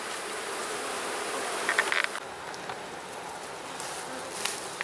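Honeybees buzz around an opened hive after a successful colony split, a steady dense hum that stays close and fairly loud throughout, with a few brief brighter scrapes partway through.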